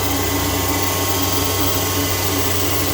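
Steady, close hum of an Okamoto IGM 15NC CNC internal grinder spindle running at 10,000 RPM, an even machine drone with a constant tone and no variation.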